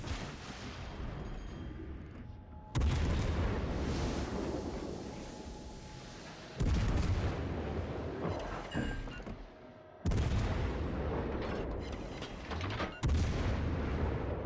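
Heavy naval gunfire from battleships in World of Warships Legends, with four booming salvos that each hit suddenly and roll on into a long rumbling decay, loud and steady, with no voices.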